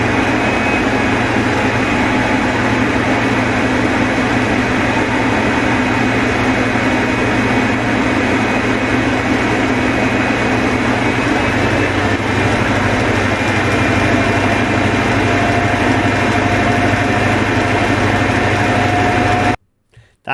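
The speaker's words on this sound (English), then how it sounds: "That is the sound of an HST going to absolutely full tilt, maximum notch, making all the magic happen." British HST high speed train diesel engines at full power, maximum notch: a loud, steady droning roar with a constant hum running unbroken for about twenty seconds before cutting off abruptly.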